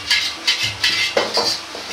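Oats dry-roasting in a Chinese wok over low heat: a metal spatula scrapes and clinks against the pan in a steady rhythm of about five strokes, close and clear, with no talking.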